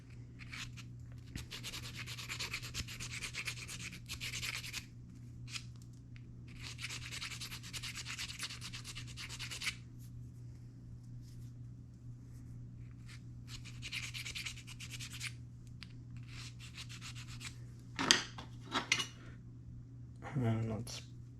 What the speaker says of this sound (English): step here is filing these down with some bead files